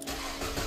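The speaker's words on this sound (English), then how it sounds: "Okay, so let's start the car." A 2007 Nissan Serena 2.0 petrol automatic fires up, giving a brief, steady mid-pitched engine rumble at moderate level with no voices.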